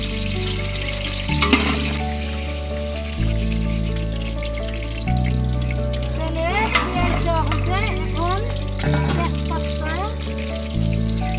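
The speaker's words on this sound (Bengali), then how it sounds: "এখানে আমাদের তেলটা গরম হয়ে গেছে এখন পেঁয়াজ দিতেছে" Onions going into hot oil while cooking at an old-age home picnic, with a continuous sizzle and hiss under louder music-like tones and occasional voices.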